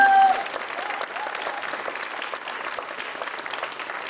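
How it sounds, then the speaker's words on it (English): Warm applause from mourners at a memorial service follows a eulogy, steady and moderately loud throughout, with a brief tone at the very start and some murmuring beneath the clapping. "you can clap for him if you want"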